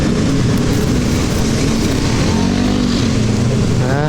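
On a night ride on a Yamaha X-Ride 125 between Majalengka and Sumedang, a car passes close by, its engine roar loud and steady under constant wind and road noise.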